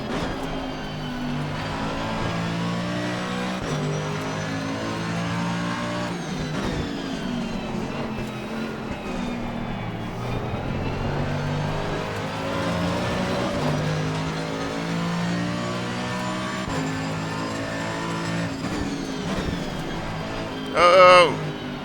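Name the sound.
Mercedes-AMG GT3 Evo race car engine in Assetto Corsa Competizione video game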